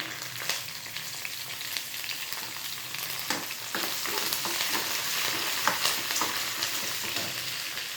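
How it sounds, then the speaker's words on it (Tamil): Curry leaves and green chilies frying in hot oil, a steady crackling sizzle with occasional pops and stirring scrapes, close and constant with no voices. "அப்புறம் கறிவேப்பிலை போடணும். இதில் பச்சை மிளகாய் போட்டுக்கிறேங்க."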